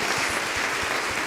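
Brief burst of applause from a church congregation, steady dense clapping throughout with a few low thumps underneath.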